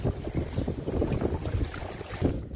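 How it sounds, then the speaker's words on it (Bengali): Gusty storm wind buffets the microphone over the Bidyadhari river in the Sundarbans, a steady roaring rush with surging bursts and water noise beneath, heard from a small boat. "তুফানের শব্দ পাওয়া যাচ্ছে এবার।"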